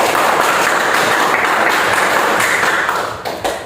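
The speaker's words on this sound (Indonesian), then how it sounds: "Berikan aplaus." A classroom group gives a burst of applause. The dense clapping stays steady and loud at first, then thins and trails off in the final second, with no speech over it.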